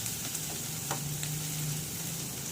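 Onions sauté in a pan with a soft, continuous sizzle, a few light clinks of stirring mixed in, for an ampalaya dish, no talking.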